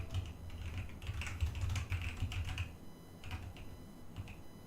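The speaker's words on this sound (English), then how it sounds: "is that typing really loud?" Rapid typing on a computer keyboard, close and clear, bursts of clicking keystrokes that pause briefly then resume, with no voices.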